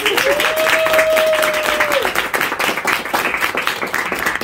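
Applause and clapping from a crowd at a drag roast show celebrating five years of drag, greeting the performer's drag daughter; dense, loud clapping that carries on throughout, with a sustained tone heard briefly near the start.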